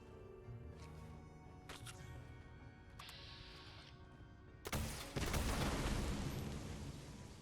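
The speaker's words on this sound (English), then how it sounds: "And this is the first firework." Faint crackles and thin whistles lead into a sudden loud burst of Fallout 76 fireworks, with booming, crackling explosions rolling on and slowly fading.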